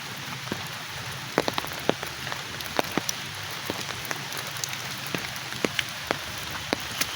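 Rain falls steadily on an umbrella among trees on a wet day in rural Bangladesh, a dense hiss with scattered sharp drops tapping close by.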